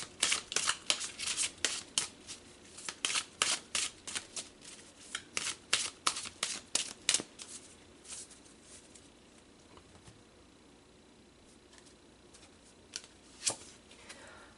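A tarot deck being shuffled, with quick bursts of crisp card riffles and snaps close up, busy for several seconds before thinning to a couple of isolated taps.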